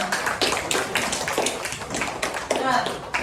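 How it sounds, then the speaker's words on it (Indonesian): A classroom group claps together, with brisk, uneven hand claps repeating steadily at close range for several seconds while voices murmur underneath. "Tepuk tangan untuk kita semua."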